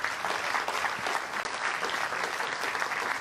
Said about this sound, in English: How about one more round of applause for Peter and Ann?